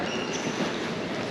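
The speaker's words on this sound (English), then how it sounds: "The train to Busan." Train waiting at a large station on the outskirts of the city for the service to Busan, South Korea, giving a steady, loud rumble and hiss throughout with no pauses.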